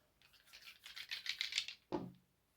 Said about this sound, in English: Let's have a look at the dice.